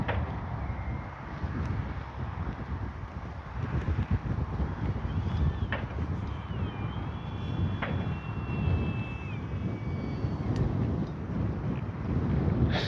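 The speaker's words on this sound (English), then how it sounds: "it might be actually just a little too windy today" Steady wind buffets a microphone outdoors at an RC model airplane flying field, a continuous low rumble with a thin high motor whine drifting through the middle.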